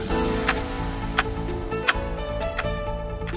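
A ticking clock jingle for the Tic Tac radio news segment: steady, evenly spaced ticks over a sustained musical bed, clear and prominent with no speech.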